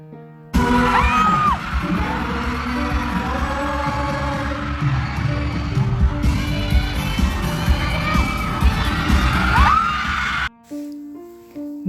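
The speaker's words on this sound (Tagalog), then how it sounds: "Mas lalong lumakas ang sigawan o hiyawan nang maghawakan na ng kamay sina JM at Fiang." A crowd of fans at a KCC mall show in Marbel, Cotabato shrieks and cheers for JM Ibarra and Fyang Smith. The roar is loud and sustained, with high-pitched yells over background music, and it drops away abruptly near the end.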